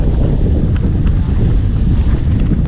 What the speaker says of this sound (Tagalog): Ayan, mahangin na